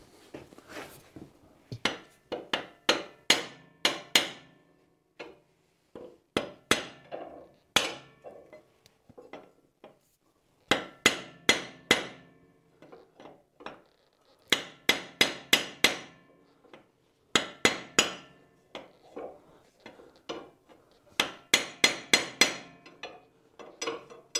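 Repeated sharp knocking in quick bursts of several strikes, with short pauses between groups, as a mallet taps a block heater into a Volvo BM 500 engine, fairly close and loud.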